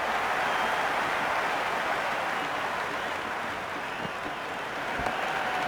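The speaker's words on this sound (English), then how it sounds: "The crowd is electric right now." Cricket 26 video game crowd in a CSK vs DC match, a dense, steady roar of cheering and applause that fills the whole stretch at a constant loud level with no pauses.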